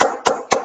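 A single person claps a few times at a storytelling club celebration, three sharp, close, loud hand claps spaced about a quarter second apart.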